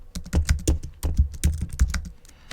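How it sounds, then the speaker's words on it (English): Quick bursts of keystrokes clack on a computer keyboard, close and crisp, in an uneven run of rapid taps with brief pauses between words, and no voice. "So I'm going to type the command git commit -m for message"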